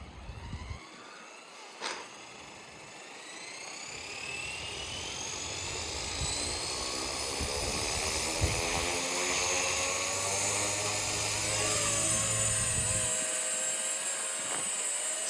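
A Blade 230S Smart V2 RC helicopter fitted with aluminum and carbon-fiber upgrade parts whines and buzzes steadily, its pitch rising and falling as it flies, loud and close throughout with no talking.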